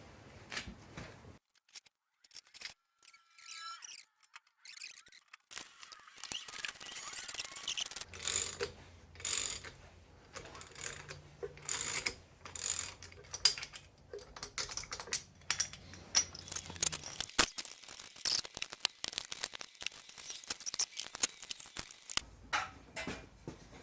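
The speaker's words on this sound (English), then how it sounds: "the only task left in Teardown is to remove this harmonic balancer. For that, we need a puller." A puller works to remove the harmonic balancer from a used Chevy 350 engine during teardown. Brisk, close ratcheting clicks and metallic taps come in irregular runs, with quieter pauses between them.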